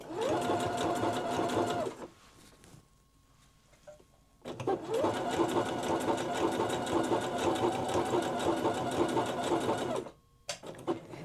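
A sewing machine stitches a zipper pouch made from leftover quilt blocks, running in two steady, loud bursts of rapid needle chatter with a brief quiet pause between and a short stop near the end.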